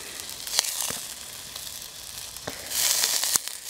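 Breakfast frying in a pan outdoors at an off-grid homestead on a cloudy day: a steady, close sizzle with crackles and pops, rising louder toward the end, with no talking.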